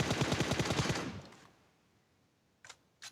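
An M249 machine gun fires in the BGMI mobile battle game. A rapid burst of about a dozen close shots lasts roughly a second, then falls quiet except for two faint, distant shots.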